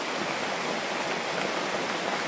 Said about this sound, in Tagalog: grabe, sobrang lakas ng ulan oh